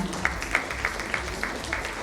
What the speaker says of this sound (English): Let's have a huge round of applause for all of them, ladies and gentlemen